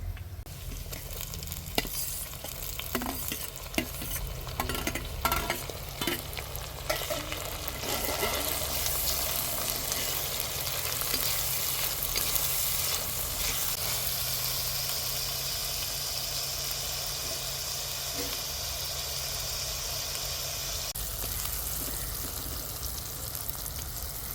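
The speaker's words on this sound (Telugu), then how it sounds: "తరిగి పెట్టుకున్న టమాటా ముక్కలు వేస్తున్నా." Chopped tomatoes added to onions frying in a pan, a steady soft sizzle with occasional stirring clatter and scrapes, fairly quiet and continuous with no voices.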